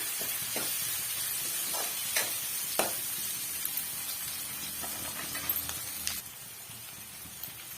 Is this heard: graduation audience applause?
no